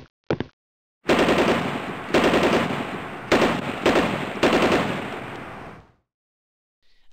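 A cartoon machine gun fires in several long, loud rapid-fire bursts with short gaps between them, close and dominant, then cuts off into silence.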